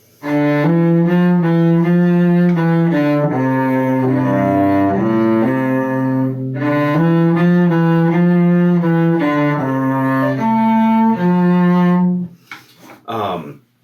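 A cello plays a flowing melodic passage from Humoresque, bowed notes full and resonant, with a brief pause midway before the phrase continues and fades.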